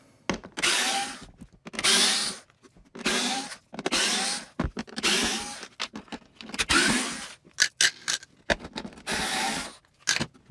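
A power drill backs screws out of the housing of a Mastercraft shop vac: repeated short whirring bursts, about eight runs of a second or so each, close and clear with brief gaps and clicks between them.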